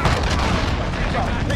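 Missile explosion in a video game, a dense, continuous booming rumble with broad crackling noise throughout, loud and sustained with no pauses.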